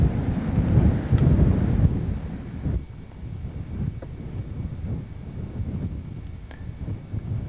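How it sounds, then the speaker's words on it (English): Steady wind buffets and rumbles in low, broadband gusts across open moorland in Exmoor, loudest at the start and easing slightly, with no voices present. "It was quite a windy day."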